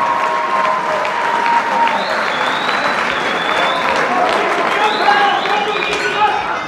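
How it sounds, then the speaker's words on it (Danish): A boxing crowd at a 2021 Danish–Swedish bout applauds steadily between rounds, a dense wash of clapping with voices and whistles mixed in. "Skal vi lige have et bifald op i ringen, kære publikum her"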